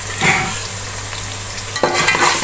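Garlic stir-fried in a pan with browned onions for a goat intestine curry, a steady close sizzle and frying crackle with a few stirring scrapes, loudest near the end.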